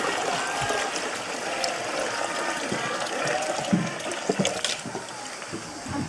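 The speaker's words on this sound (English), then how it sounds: "a bit of water that percolates up from the depth of the riverbed" Water trickles and splashes as a cup scoops from a hole dug in a dry African riverbed where it seeps up from below, close and steady, with a few sharper scoops and faint voices in the background.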